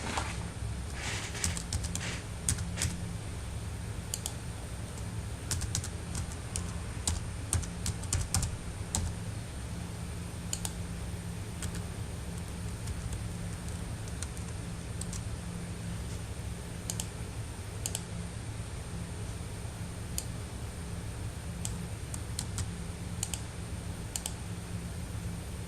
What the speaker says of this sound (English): Begin typing your information into the table.